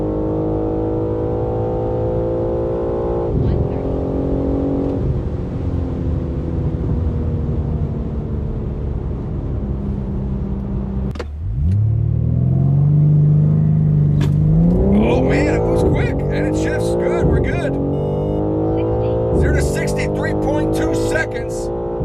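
A BMW M3 xDrive launches hard down a quarter-mile drag strip, its engine droning loudly and climbing through gear shifts, the pitch dropping and surging again midway as it keeps pulling, close and continuous throughout.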